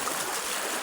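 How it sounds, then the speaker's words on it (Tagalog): Water in a stream rushes in a steady broadband gush, close and loud, with no other sounds over the brief moment. "Nag-bro-bro ang tubig mga kaidol."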